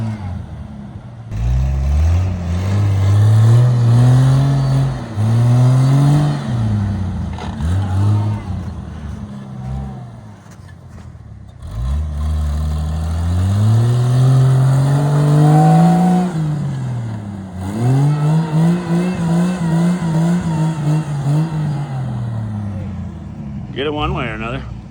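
A Jeep Grand Cherokee's 4-liter engine with a 5-speed revs repeatedly while climbing a mountain trail, rising and falling engine tones nearby, with people talking over it.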